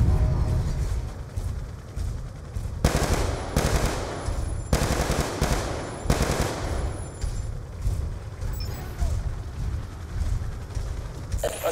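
A turret machine gun fires in the Call of Duty: Black Ops II video game, producing several loud rapid bursts of close gunfire separated by short pauses over a constant background rumble.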